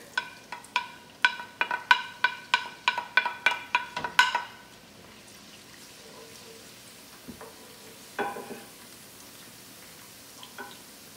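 Garlic hitting hot palm oil, a rapid train of sharp crackling pops for about four seconds, then fading to a soft background sizzle with a few scattered spits and clatters.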